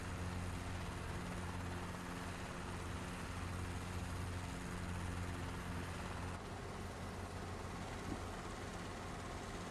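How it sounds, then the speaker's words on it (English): Steady, loud rotor and engine drone of a Robinson R22 light helicopter running close by, continuous throughout with no pauses. "a very well-known, well-respected little helicopter, the R-22."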